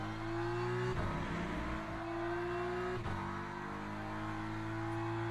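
Corvette race car engine in the Le Mans Ultimate racing game, a steady high droning tone held at speed with two brief dips where gear shifts interrupt it, continuous and loud with no talking.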